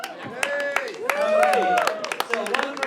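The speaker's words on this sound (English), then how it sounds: "Give yourselves a big round of applause if you made a movie tonight." An audience at a 48 Hour Film Project screening Q&A in Glasgow gives a round of applause, steady clapping mixed with cheers and voices throughout, moderately loud.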